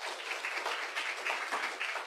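Congregation in a church service breaking into applause, a steady patter of many hands clapping at moderate distance with no talk over it.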